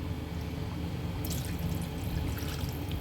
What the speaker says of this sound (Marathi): मी याच्यामध्ये आपले दोन पेले पाणी टाकणार आहे